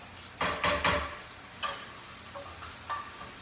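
Onions and garlic in a pan over raised heat, giving a low steady sizzle broken by a few louder stirring scrapes and clatters, close by with no talking.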